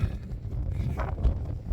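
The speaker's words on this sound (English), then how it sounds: "Bit windy now up here." Gusty wind on an exposed hilltop near a trig point buffets the microphone in uneven rushes, a low blustery roar with a few brief louder bursts.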